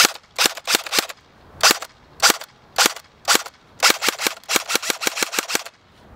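A MAKR-9 airsoft gun on a 7.4V LiPo battery firing semi-automatic, about twenty sharp snapping shots, close and loud, in irregular bursts of single and rapid shots with short pauses between groups.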